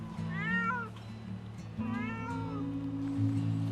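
Several captured cats meow in two clear drawn-out bursts, close and fairly loud, over a low steady vehicle hum, just after being trapped on a small island for a group neutering program.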